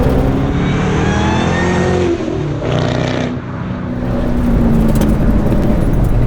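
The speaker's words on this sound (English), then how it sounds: "I think these V8s are some of the best sounding engines ever built." GT500 track car with a V8 engine accelerating hard and revving, a loud close-up roar climbing in pitch, dropping briefly at a shift, then building again with no talk over it.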